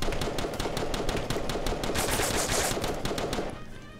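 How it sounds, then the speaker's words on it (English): Rapid bursts of suppressed gunfire in the Roblox game Apocalypse Rising 2 sound in quick repeated shots, fairly loud and close, tapering off at the end with no talking. "I'm hearing suppressed shots."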